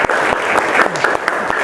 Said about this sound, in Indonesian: sebelumnya kita tepuk tangan ya buat hasil pelajaran kita hari ini